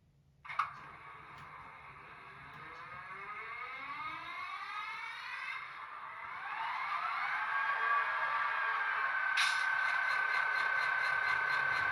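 Athearn SP SD45T-2 model locomotive sound decoder starts up with a sharp click, then a rising whining engine drone that grows louder and steadier, with a high tone near the end.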